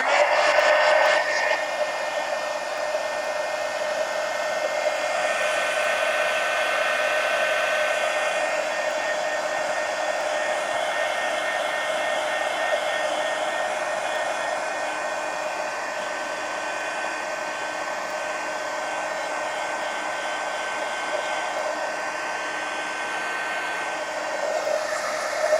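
A hair dryer blows steadily on a watercolor painting in a napkin art journal, giving a continuous close whirring drone that holds at an even level throughout.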